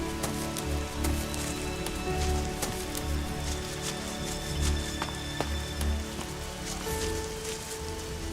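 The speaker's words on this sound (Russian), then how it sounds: "Капец, когда этот дождь закончится уже?" Rain falls steadily in the game ELEX, a continuous patter of drops on surfaces with scattered sharper drip ticks, moderately loud and unbroken, with no talking.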